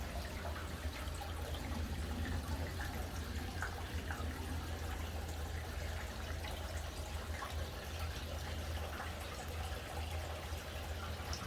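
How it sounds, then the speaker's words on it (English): Running water from a natural spring trickles and flows steadily through the ruins of an abandoned pump house, a continuous soft wash with no other sounds. "You can hear that running water."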